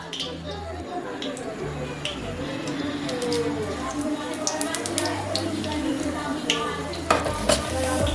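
Bay leaf and whole cumin seeds sizzle steadily in hot oil in a pan, a continuous crackling hiss with scattered sharp pops and light stirring clicks, while a voice talks over it.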